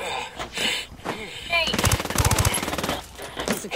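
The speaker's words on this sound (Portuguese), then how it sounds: "Estão atirando, estão atirando." Video game gunfire: rapid bursts of automatic weapon fire, loud and close, with a quick volley near the middle over background game sounds and a voice talking.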